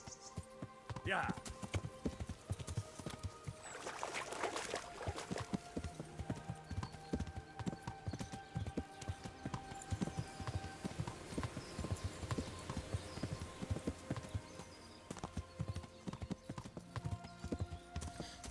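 Horse hooves clip-clopping steadily in the video game Kingdom Come: Deliverance, a quick continuous rhythm of soft thuds at moderate distance under game ambience, with someone talking at times.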